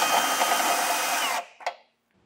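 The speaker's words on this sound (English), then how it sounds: "opening it up with a step bit's a lot easier" A power drill spins a step bit to enlarge a hole in a Curt trailer hitch receiver mount for a 2024 Subaru Forester, a loud steady whine that cuts off abruptly, followed by a brief clunk and quiet.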